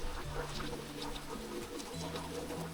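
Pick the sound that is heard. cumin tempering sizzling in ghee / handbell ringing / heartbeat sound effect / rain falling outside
rain falling outside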